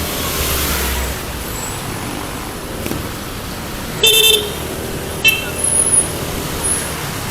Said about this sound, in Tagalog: rapid horn ang tawag dyan mga idol oh yes rapido